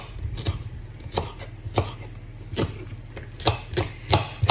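Green onions chopped with a knife on a board, a steady run of crisp, close thunks spaced about half a second apart, loud and alone.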